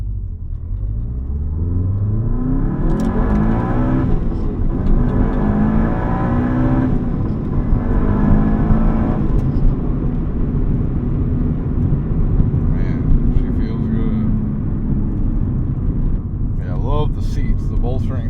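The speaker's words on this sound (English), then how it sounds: "So I'm going to do a quick 0 to 60 easy going." A 2003 Subaru WRX STi S202 accelerates hard from rest to 60, its engine note climbing through the gears with brief dips at each shift, loud and steady from inside the cabin with road rumble beneath.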